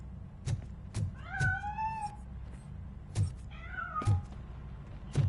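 A cat meows twice inside the video game RoboCop: Rogue City, each cry a drawn-out, wavering call with a short gap between, heard over a low steady hum and a few soft thumps, no one talking.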